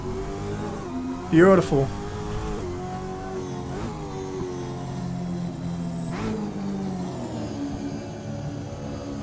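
The 1963 Bathurst-winning Ford Cortina race car shifts down through the gears on a downhill run, its engine note steady and then rising in a blip mid-way, heard from on board with someone talking over it.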